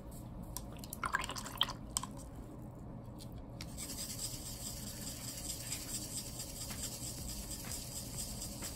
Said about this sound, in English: dip your paintbrush in the water